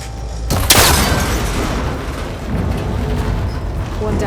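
A cable connector shot and snapping apart in Horizon Forbidden West, arriving as a sudden loud burst about half a second in and trailing into a rumbling, crackling wash of game ambience.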